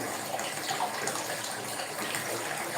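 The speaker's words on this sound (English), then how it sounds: "now I'm going to have a lovely hot bath" Hot water running into a bathtub to draw a hot bath: a steady, continuous gushing rush close by, with no talking.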